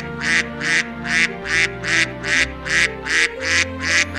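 Cartoon ducks quack in a steady run of about ten evenly spaced, loud calls over a low musical background.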